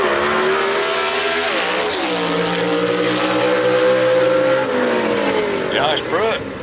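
Gasser drag race cars at Gulfport Dragway, engines roaring loud and continuous with rising and falling pitch as they rev and pass, under an announcer calling the pairing over the track speakers.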